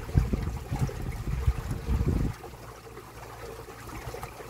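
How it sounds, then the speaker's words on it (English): Water splashing and churning close by for a couple of seconds, then dropping to a softer, steady wash of moving water, from a 16-foot outrigger canoe under electric motor power at about 4 knots. "Setting number 3, I am hearing water splashing."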